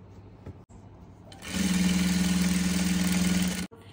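A sewing machine runs steadily for about two seconds while stitching a Haryanvi daaman skirt, its close, even motor hum and rapid needle rhythm starting abruptly after a quiet moment and cutting off cleanly.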